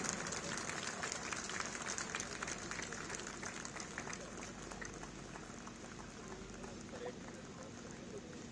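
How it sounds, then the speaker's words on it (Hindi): Audience applause at a police passing out parade for newly trained deputy superintendents in Moradabad, a steady broadband wash of many hands clapping that holds evenly throughout without speech. "कृपया एक बार पुनः इनके सम्मान में जोरदार तालियां बजाएं।"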